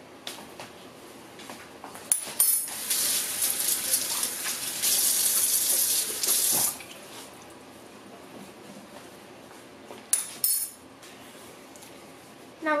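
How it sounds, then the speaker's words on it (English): Tap water runs and splashes in a sink while hands and a spoon are rinsed in a kitchen, a steady gush lasting several seconds with light metallic clinks and brief splashes before and after. "And then we're going to rinse off our hands and our spoon because we'll need both of those."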